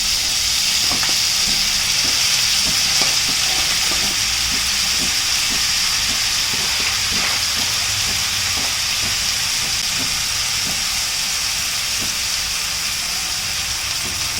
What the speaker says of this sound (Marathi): तिला चांगलं मस्तपैकी परतून घ्यायचं आणि चिरलेली भाजी टाकून घ्यायची